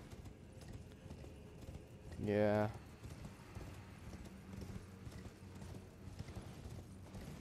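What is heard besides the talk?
horse hooves galloping in video game Elden Ring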